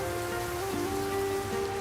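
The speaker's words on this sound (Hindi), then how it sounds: "फिर ये बारिश किसी दिन मरवाएगी।" Rain falls in a steady, even patter on surfaces, a soft continuous wash with a faint background hum and no speech.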